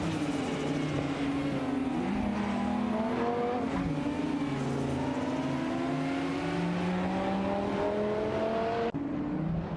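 Ferrari racing engines, a 308 GTS and a 512 TR, in a racing game, several cars roaring together as their revs climb and shift through gears, loud and steady throughout.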